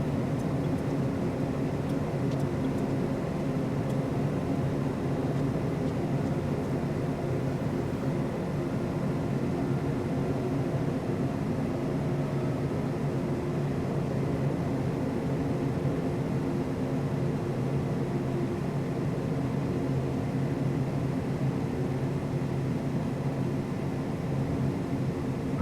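Boeing 737 on a gusty final approach in a flight simulator game, a steady broadband roar of engines and airflow held at constant level throughout, with no voices.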